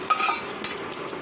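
Fried spice tempering is tipped into a pot of khichuri, giving a short sizzle with scraping, stirring clinks that rise twice in quick bursts, near and without voices.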